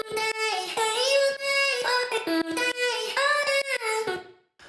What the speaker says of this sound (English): the same vocal chop, but then an octave higher, which sounds like this